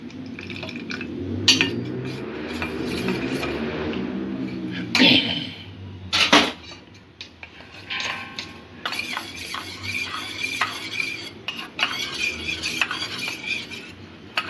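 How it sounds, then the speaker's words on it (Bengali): Cornflour is stirred into a little water for chicken corn soup, with a spoon clinking and scraping against a glass or bowl in uneven bursts, liquid swishing, and a voice talking intermittently. "এখানে 1 চা চামচ কর্নফ্লাওয়ার নিয়েছি, কর্নফ্লাওয়ারটা অল্প জল দিয়ে আমি গুলে নেব।"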